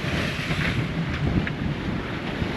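Steady, rough wind gusts of 18 to 22 knots roar across the microphone while sailing at sea, a continuous buffeting rush with no talk.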